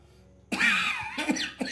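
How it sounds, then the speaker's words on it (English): A man's chronic cough: a sudden harsh hacking burst after a second of near silence, followed by two shorter rasping coughs, close and fairly loud. "this chronic cough"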